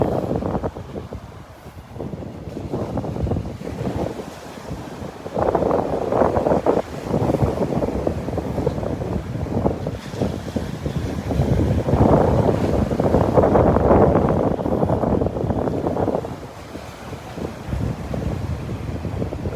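Surf rolling in at Delnor-Wiggins beach on a windy morning, steady broadband wash of breaking waves swelling and easing, heavily buffeted by wind rumble on the microphone, with no talking.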